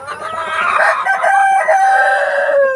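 A black Australorp rooster crows nearby in one long, loud, drawn-out call that holds steady almost to the end.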